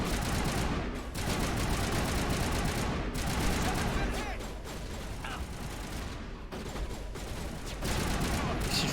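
Dense, loud gunfire from the video game Mass Effect rattles almost nonstop in rapid bursts, with only brief dips between volleys.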